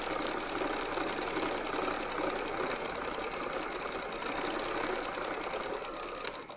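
Sewing machine stitching quilt fabric in free-motion quilting, running in a fast, steady, close mechanical whir with rapid needle rhythm throughout and no talk.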